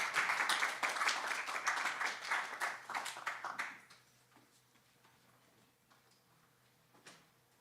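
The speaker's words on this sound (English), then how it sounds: "A big round of applause." An audience at a language colloquium gives a round of applause, a moderate crowd clapping steadily for several seconds before it thins out and dies away, leaving a quiet room with a stray sound.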